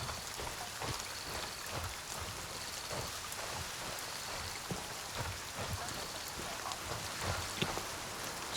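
Heavy rain in the video game Grey Zone Warfare pours down as a steady, dense hiss, with scattered drips and patters over a constant wash and no voices.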